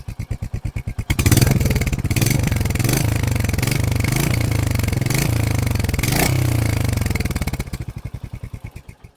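Royal Enfield Hunter 350 motorcycle idling close to the microphone, a loud, steady thumpy exhaust beat with deep bassy pulses that swells in after a moment and fades back out at the end.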